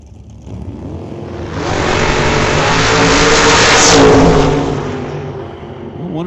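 A 1953 Corvette launches at an old-time drag strip, its engine roaring loud and close as it revs and accelerates, swelling to a peak mid-run before easing off, with no voices over it.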